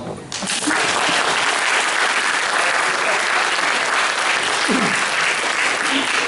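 Audience applause at a cosplay convention guest talk, steady and loud continuous clapping from a large crowd, with faint speech underneath.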